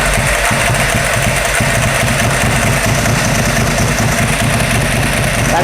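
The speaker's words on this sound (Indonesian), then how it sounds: "Jangan sampai ini motornya udah nggak bisa nyala." A motorcycle engine idles loudly and close by, a steady low rumble with even, rapid pulsing that holds for the whole five and a half seconds.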